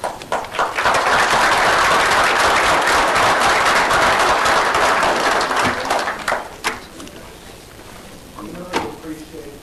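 An audience at a county board of supervisors meeting breaks into loud, sustained applause with dense clapping that fades out after several seconds, a few scattered claps trailing at the end.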